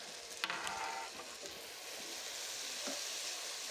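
Potatoes, carrots, tomatoes, broccoli and cauliflower hit hot oil in a pot for khichuri, with a sharp clatter as they go in, then a sustained, close frying sizzle while they're stirred.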